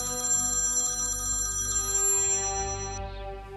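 A telephone rings in a home setting, a bright repeating electronic ring lasting several seconds that cuts off near the end, loud and close with no one speaking over it.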